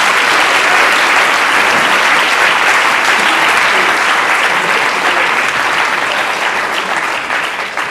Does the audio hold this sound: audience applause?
yes